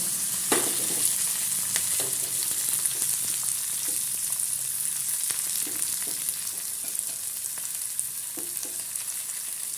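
Oil sizzles and crackles steadily in a pan as onions, green chillies and peas are tempered, with occasional soft stirring clinks over the constant frying hiss.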